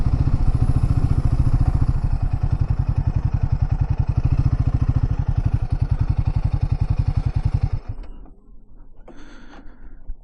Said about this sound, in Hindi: चलो वहाँ थोड़ी देर मैं अपनी बाइक को पार्क करता हूँ